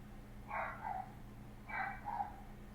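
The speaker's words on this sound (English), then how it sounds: "What are they barking about?" Dogs bark twice, about a second apart, each a short muffled burst heard from a distance indoors over a low steady hum.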